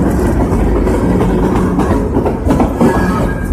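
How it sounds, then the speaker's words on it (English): A garbage freight train rumbles past near East Syracuse, New York, a loud, steady roar of wheels and cars with faint clacking throughout and no voices. "That's a garbage train."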